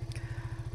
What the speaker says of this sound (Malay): Matikan enjin kejap.